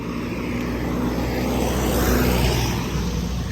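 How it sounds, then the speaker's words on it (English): A loud truck rumbles past close by on a street during a walk with a young German shepherd puppy, a broad steady roar that swells slightly and fills the whole clip. "This truck is loud."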